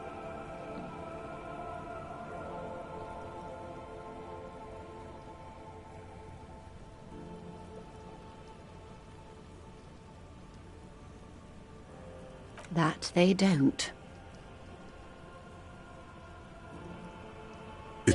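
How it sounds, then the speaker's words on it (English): Steady rain falling in the video game Disco Elysium, a soft continuous patter on surfaces throughout, with a brief louder burst of noise near the end and a few quiet spoken words. "It's early spring, and the rains are coming."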